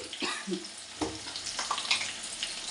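Chopped onion frying in oil with salt, crackling and sizzling close by, with sharp spatters and a few scraping stirs across the short stretch.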